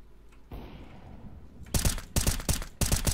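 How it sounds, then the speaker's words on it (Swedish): Gunfire in the video game CS:GO, shots sprayed through a smoke grenade, comes as several loud, rapid bursts separated by short gaps, following a quieter stretch of game ambience. "Jag bara drog några skott genom smoken."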